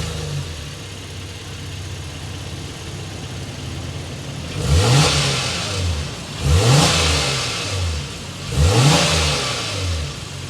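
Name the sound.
2023 Honda Pilot Touring engine start and exhaust revving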